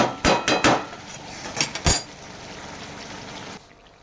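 Metal utensil scraping and knocking against a pan while chicken curry is stirred, with a quick cluster of clanks, a second pair of sharp knocks, then a soft continuous hiss of cooking that cuts off near the end.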